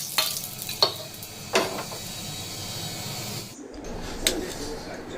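Snack batter fries in a little oil in a pan over medium to high flame, giving a steady close sizzle with a few sharp pops and clinks at intervals.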